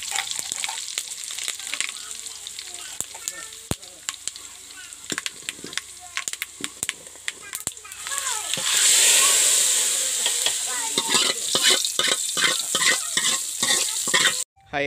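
Hot oil sizzles and crackles close by as spices and vadagam are tempered for a village-style fish curry, with sharp spatters and stirring clatter, swelling into a louder sustained fry midway.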